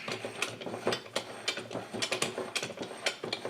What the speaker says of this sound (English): So let me thread this onto the crank until it bottoms out.